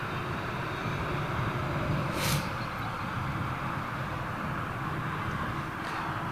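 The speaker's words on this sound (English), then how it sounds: "All Nippon 777" All Nippon Airways Boeing 777 at London Heathrow, heard as a steady, broad jet roar at moderate distance that stays constant throughout, with no talk.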